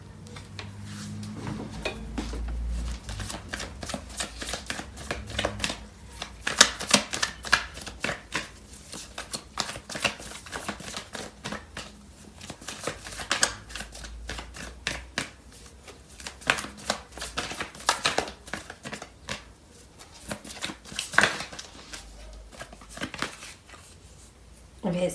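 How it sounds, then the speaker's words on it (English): Tarot cards being shuffled and pulled from the deck, a steady run of quick riffling, flicking card sounds lasting throughout, close and fairly soft, with a faint voice underneath. "Let's pull out more cards."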